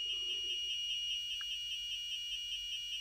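Elegoo Uno R3 kit's Arduino active buzzer gives a steady, continuous electronic tone that holds unbroken for the full few seconds, fairly faint, with one tiny blip partway through and no voices.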